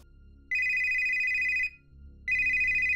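A mobile phone rings loudly and close up, two sustained electronic tone bursts separated by a short pause.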